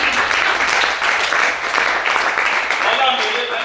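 Sustained applause from a church congregation during a prophetic worship service, steady and dense throughout with a few faint voices mixed in.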